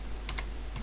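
Keys tapped on a computer keyboard while setting a static IP address in Ubuntu: a few quick, close keystrokes in a short burst, with no talking.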